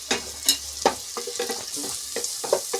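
Fennel seeds sizzle in hot oil in a frying pan while being stirred, a steady close crackle broken by regular scraping strokes of the spoon against the pan.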